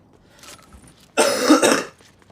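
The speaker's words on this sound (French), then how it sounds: "je tousse un petit peu" A single burst of coughing, loud and close, lasting about a second, with quiet room sound around it and no talk.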